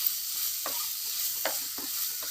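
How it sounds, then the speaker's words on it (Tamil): Cumin, fennel and peppercorns sauté in a clay pot for chicken kulambu, a steady soft sizzle broken by a few scraping stirs of a spoon. "போட்டு நல்லா வதக்கி விட்ருங்க"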